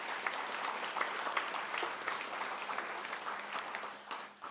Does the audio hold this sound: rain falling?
no